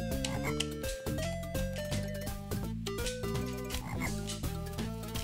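Steady frog croaking runs through the background of the Sega Genesis Lion King game, woven into a dense bed of music with sustained tones and rhythmic bass.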